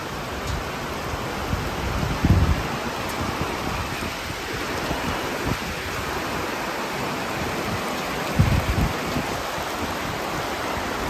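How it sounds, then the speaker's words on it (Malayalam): Heavy rain pours down in a continuous, even wash of hiss with a few faint thuds and drips, and no voices. "ഭയങ്കര മഴ കൂടിക്കൊണ്ടേ ഇരിക്കുക ഭയങ്കര മഴ"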